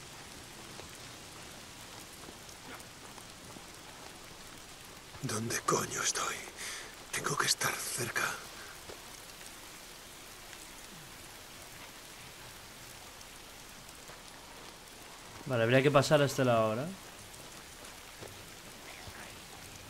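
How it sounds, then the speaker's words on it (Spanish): Steady rain falls throughout the Days Gone game world, a soft continuous hiss beneath whispered talk and brief bursts of other sounds. "es la puta lluvia. ¿Por qué? Llueve siempre."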